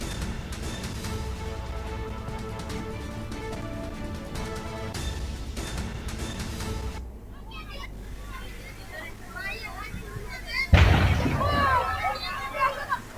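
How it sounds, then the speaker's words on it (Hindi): A heavy gas cylinder explosion in a fire at Kanawani, Indirapuram, cuts through a constant roar of crowd noise and voices, followed by continued clamor and shouting. "किस तरीके से धमाके हो रहे हैं ये आप तस्वीरों में सुन सकते हैं"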